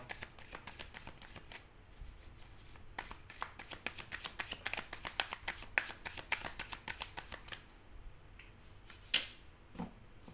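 Tarot cards are shuffled at length, giving a steady, quiet run of soft riffling and flicking with a few sharper card snaps, close and without talking.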